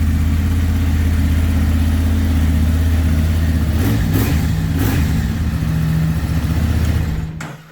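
A Honda Transalp XL750 motorcycle with an aftermarket exhaust runs loud and close on a cold start, a steady deep idle with a brief rev near the middle before cutting off at the end.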